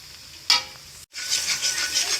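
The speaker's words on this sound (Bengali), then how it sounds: "এখানে দুইটা ডিম দিয়ে দিলাম এখন ডিমগুলো এখানে একটু নেড়ে চেড়ে এটার সাথে মিক্স করে ফেলি" Eggs frying in a pan with onion and chili: a short burst of stirring, a brief pause, then a loud, fluctuating sizzle close by.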